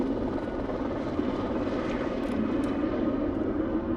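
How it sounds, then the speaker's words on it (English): A helicopter in the horror video game Nightsum's Knightmares, heard as a continuous, fairly loud rotor and engine drone that holds steady without pause or speech. "I'm eventually getting to that chopper."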